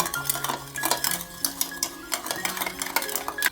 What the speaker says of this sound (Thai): คนผสมให้เข้ากันเลยค่ะ